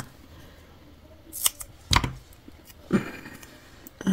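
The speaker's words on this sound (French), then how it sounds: "j'ai pris les mauvais ciseaux pour couper mon double face." Scissors snip double-sided tape for scrapbooking, a few sharp separate cuts spaced irregularly over a few seconds, close and fairly quiet with light handling noise between them.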